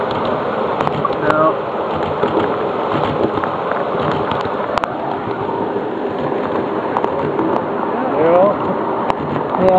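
Heavy rain pours and splashes during a ride on a 7.5 inch gauge miniature train, a dense continuous wash with rumbling running noise underneath and people talking and laughing over it.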